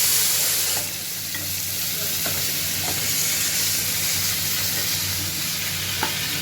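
Green chillies and chopped onions fry in a pan for poha upma, giving a steady, close sizzle with a low hum underneath. A few faint stirring taps punctuate it, and nobody speaks.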